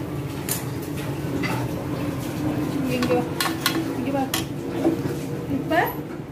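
Beetroot sautés with salt in a pan while a spoon scrapes and knocks against the metal in repeated strokes, over a low sizzle, with a person talking throughout.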